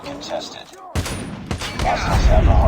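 Gunfire in the mobile game Call of Duty Mobile: a loud volley of shots bursts in after a short pause and keeps rattling, close and dense over game noise.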